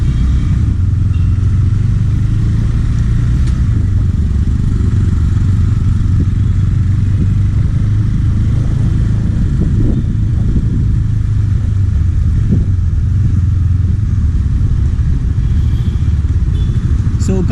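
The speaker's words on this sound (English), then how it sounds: "So the exhaust sound is not completely changed in this." A BS6 KTM Duke 390 motorcycle's exhaust rumbles steadily at low pitch with a loud, continuous idle-like drone and slight fluctuations throughout.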